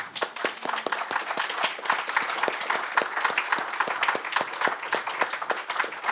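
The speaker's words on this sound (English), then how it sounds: "this is applause for Masuma" An audience applauds after a reading at a Sakharov Prize literary event, steady crowd clapping with sharp individual claps throughout, moderately close, without speech.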